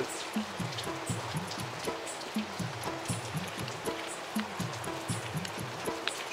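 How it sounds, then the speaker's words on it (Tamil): Steady rain falls throughout, a dense even patter with a repeating rhythmic knocking underneath, no talk. "இந்த மழை சத்தம் வேற இன்னும் டெம்ப் பண்ணுது"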